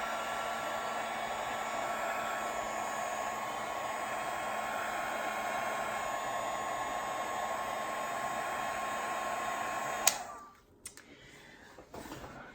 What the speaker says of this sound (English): use the heat gun or hairdryer